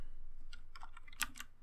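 A computer keyboard clatters in a short burst of quiet, close keystrokes while a terminal command is typed on Ubuntu, with a few irregularly spaced clicks and a slightly firmer tap near the end.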